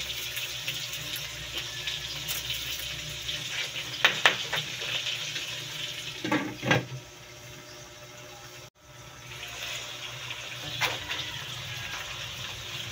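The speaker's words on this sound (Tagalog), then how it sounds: "Mag-add na tayo ng water." Water is poured steadily into a cooking pot of mussels seasoned with pepper and salt, a continuous close splashing rush with a few brief louder gushes.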